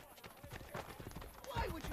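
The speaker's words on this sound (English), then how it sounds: "Let's grab a horse." Horse hooves clip-clop steadily in Assassin's Creed: Brotherhood, a quick, close rhythm of clopping steps that runs the whole time and grows louder toward the end, with voices or game sounds mixed in.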